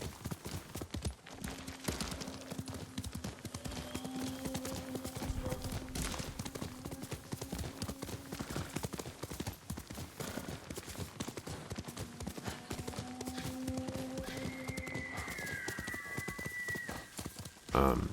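Continuous clip-clopping hoofbeats of a horse in the video game Ghost of Tsushima over a long stretch, rhythmic and moderately close, with faint tonal sounds drifting in and out.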